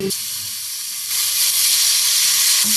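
Chicken sizzles in hot oil inside a pressure cooker, a steady loud frying hiss that swells stronger partway through and cuts off abruptly at the end.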